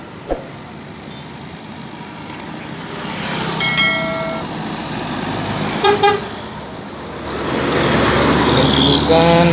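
An Intra bus passes along a Sumatran highway with a horn toot midway and traffic rumbling throughout, the engine swelling louder toward the end.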